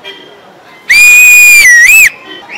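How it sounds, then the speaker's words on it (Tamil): A person whistles loudly at a gathering of IPL 2023 Chennai Super Kings cricket fans: one sustained, piercing whistle of about a second that dips and rises in pitch, over faint crowd murmur. "விசில் போட தெரியுமா?"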